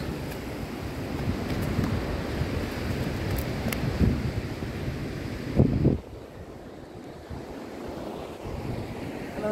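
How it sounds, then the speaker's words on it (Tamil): Sea waves wash onto the shore where cast-net fishing for mullet takes place, a continuous rumbling surf heavy with wind buffeting the microphone, surging louder before easing to a lower roar. "இப்போ அலை ரொம்ப ஜாஸ்தியாக இருக்குது"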